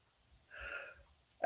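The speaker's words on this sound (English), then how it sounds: "I'm going to sneeze." A single short, soft human sneeze, a brief burst of breathy noise, followed by a faint sharp click at the end in an otherwise quiet room.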